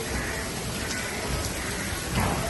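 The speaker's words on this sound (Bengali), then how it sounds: "আজকে কক্সবাজারে কিন্তু আপনার হিউজ বৃষ্টি" Heavy rain pours steadily in Cox's Bazar, a dense continuous hiss with scattered louder splashes throughout.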